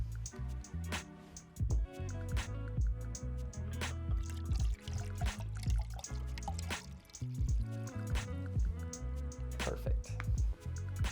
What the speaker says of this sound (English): Then we just add our water all the way up to the top.